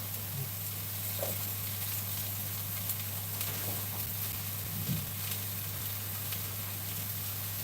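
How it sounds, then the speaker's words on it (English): A soft, steady sizzle of onion frying in a hot pan fills the background, with a low constant hum and a few faint clinks. "Get that onion in there, get it sizzling away"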